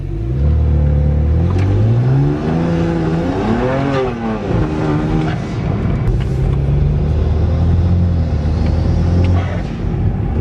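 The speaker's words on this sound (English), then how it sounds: "Seems like it's driving fine, but the injectors are definitely making a weird noise" A BMW with an N54 engine and noisy fuel injectors drives along, its engine note rising and falling through gentle revs, close and loud with a steady mechanical drone throughout.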